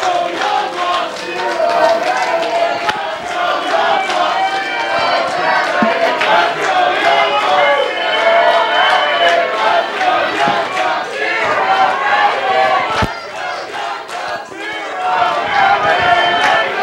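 A wrestling crowd at a DREAMWAVE show yells and chants loudly and continuously, with cheers from both sides overlapping and sharp shouts breaking through, while a commentator talks over the din.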